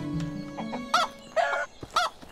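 Chickens cluck in the Medieval Dynasty game, a few close, sharp squawking clucks spaced about half a second apart over a quieter background, with no talking.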